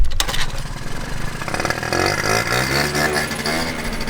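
A mint Honda DIO Elite 2-stroke 50cc scooter starts with a loud crackle and settles into a buzzy, raspy engine note that rises as it revs, close and continuous, with no voices.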